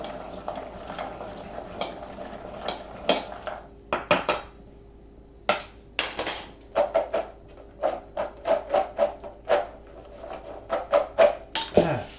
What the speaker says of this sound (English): I am just using the measuring spoon to stir things around because it's already dirty